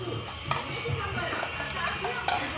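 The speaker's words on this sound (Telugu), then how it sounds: "మంచిగా అలా మిక్స్ చేసుకోవాలన్నమాట" A spoon clinks and scrapes against a bowl while Ugadi pachadi is stirred together with jaggery, neem flowers and other mixed ingredients, producing faint, irregular taps and scrapes at close range with a soft background hum.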